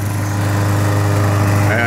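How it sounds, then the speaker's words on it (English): Lawn mower engine running steadily nearby outdoors, a loud continuous droning hum that stays constant without pauses, used while tracing an irrigation valve solenoid with an AM radio. "Now with the lawnmower running,"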